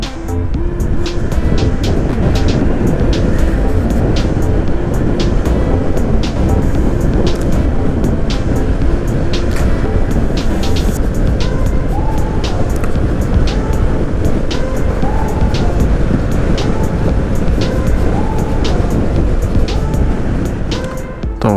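A Honda ADV 150 scooter engine drones steadily as it climbs an uphill road, a loud, continuous roar blended with heavy wind rush and no pauses.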